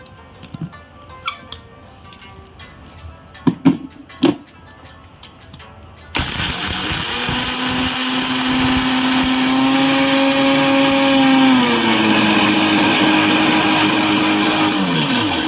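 A few clicks and knocks, then a Preethi Zodiac 750-watt mixer grinder starts up and grinds roasted coriander seeds into powder in a medium jar, loudly and steadily, its motor whining with a slight drop in pitch near the end.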